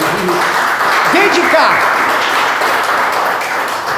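A church congregation claps for Jesus during a Portuguese-language service, a dense, steady wash of applause filling the whole stretch while a voice speaks over it.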